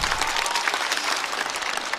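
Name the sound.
audience applause for a comedian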